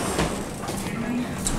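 A two-speed sliding elevator door at Lurgan Hospital, built by C&M Lifts, rumbles briefly as it moves, close and steady, while a person talks over it.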